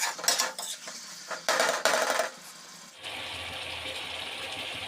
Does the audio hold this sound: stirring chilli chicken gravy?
yes